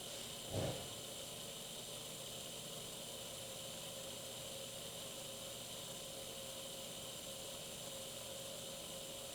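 A Neo Changer RGB reservoir pump runs at high RPM, giving a steady, faint tonal whir and hum that holds even throughout, with a brief soft bump near the start and no talk.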